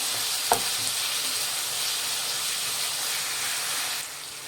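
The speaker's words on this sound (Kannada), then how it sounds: "ಇದು ಅಷ್ಟೇ ಸಾಫ್ಟಾಗಿ ಆಗೋವರೆಗೂ ಫ್ರೈ ಮಾಡಬೇಕಾಗತ್ತೆ, ಸಾಫ್ಟ್ ಆಗೋವರೆಗೂ" Two medium tomatoes fry in a pan for coriander chicken, giving a steady close sizzle and hiss with one brief clatter near the start, fading slightly toward the end; no one speaks.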